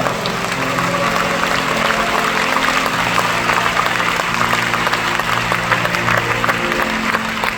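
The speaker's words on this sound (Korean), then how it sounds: "우리 사도적인 삶을 살겠다고 그런 마음의 각오를 가지고 오늘 그런 연출을 하신 이분들께 다시 한번 뜨거운 박수를 부탁드리겠습니다" A live audience at a faith gathering applauds a performance. The clapping is loud and continuous throughout, with faint music tones running underneath.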